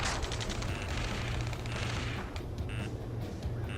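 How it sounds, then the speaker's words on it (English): Dense, continuous gunfire from the Ace Combat 7 video game, a loud unbroken clatter of machine-gun bursts and rapid shots filling the whole stretch, with no voices over it. "Taking fire! We're pinned down! Shoot back!"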